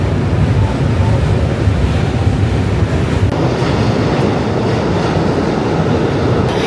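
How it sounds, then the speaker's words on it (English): A New York City subway train rumbles and rattles steadily at close range, a loud continuous roar with wind-like noise throughout. "Just got off the train"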